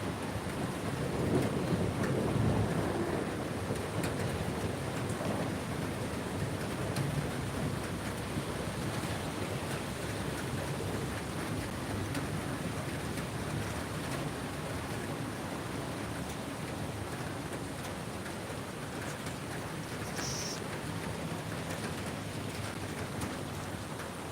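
Rain falling outdoors: a steady, fairly faint wash of rainfall that continues evenly throughout, with a low rumble underneath and no voices.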